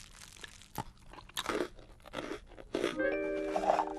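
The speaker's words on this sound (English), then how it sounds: "Half a crunchy munchy bar." A crunchy snack bar is bitten and chewed close up, giving a string of sharp crisp crunches spread across a few seconds, with no voices present.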